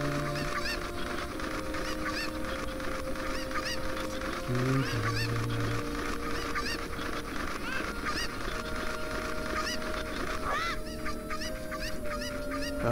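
Chickens cluck and squawk in The Legend of Zelda: Ocarina of Time, repeated bird calls over sustained game music.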